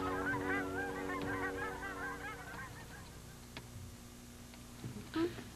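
Geese honk repeatedly in a loose chorus as a flock passes on an autumn day, the calls strongest at first and fading out.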